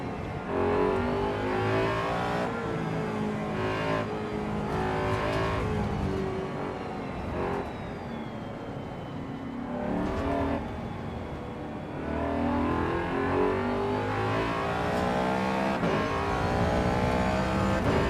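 Race car engine and exhaust in AC Evo, a loud close engine that revs up and down repeatedly through gear changes, droning steadily with rising and falling pitch throughout.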